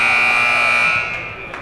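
A loud, sustained basketball buzzer ends the half at a boys' high school game in a gym, one long steady blare that cuts off and fades into crowd noise.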